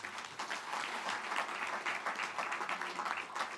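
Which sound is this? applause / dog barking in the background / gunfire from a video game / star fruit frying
applause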